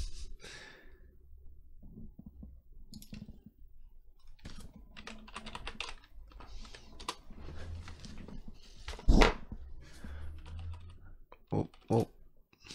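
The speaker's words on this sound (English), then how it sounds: "That is a loud fucking keyboard." A loud computer keyboard clatters with rapid, irregular key presses close to the mic, pausing now and then, with a couple of louder thumps and some breathing.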